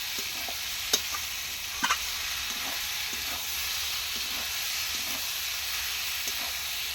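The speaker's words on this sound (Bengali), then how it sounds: "ভাজতে ভাজতে দেখো আলু সিদ্ধ হয়ে গেছে।" Potatoes and prawns with pointed gourd fry in oil in a pan, giving a steady close sizzle and hiss broken by occasional sharp scraping clicks from stirring.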